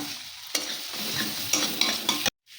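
Cumin seeds and chopped onion frying in butter in a pan, a close, dense sizzle with scraping stirs for a couple of seconds before cutting off abruptly.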